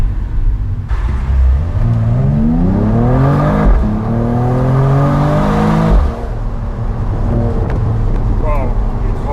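A 2022 Mercedes-AMG E53 Cabriolet's engine rises and falls through several gear changes while driving, revs climbing in sweeping steps close up and loud, with cabin and road noise underneath.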